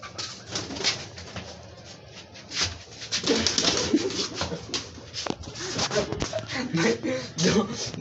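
Pigeons cooing close by while a man tries to catch one, with broadband rustling, wing flaps and shuffling movement throughout and voices talking intermittently over the birds.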